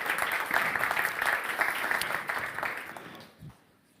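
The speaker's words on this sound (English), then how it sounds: "Perhaps a little bit of an applause for John." A small audience at an expert discussion applauds for John, a moderately loud round of clapping that fades out near the end, leaving a brief thump and near quiet.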